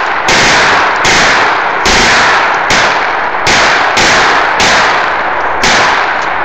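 An MPA mini 9mm submachine gun is bump fired, giving about eight loud, sharp gunshots spaced roughly half a second to a second apart, each with a short ringing decay and no talking.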